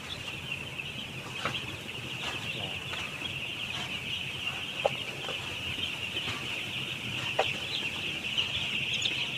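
Broiler chickens in a coop make a steady, dense chorus of clucking and chirping, with occasional sharper calls standing out over a continuous hum of the flock.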